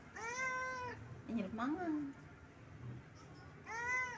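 A pet cat meows repeatedly, begging for food: drawn-out, close cries at the start and again at the end, with a person speaking briefly in between.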